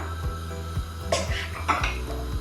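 Zucchini goes into a pot for vegetable soup and is stirred, giving a few close clanks and scrapes of a metal spoon against the pot over a low steady hum, with no voices.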